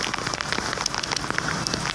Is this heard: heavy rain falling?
yes